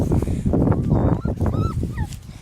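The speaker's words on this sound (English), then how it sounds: "Today I'm actually recording about my new dog" A dog whimpers with high, wavering whines and then gives a few sharp barks close by, loud and uneven in rhythm, with no talking.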